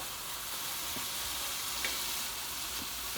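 Ground turkey sizzles and fries steadily in a pan, a constant soft crackle with a few faint stirring scrapes and no talking.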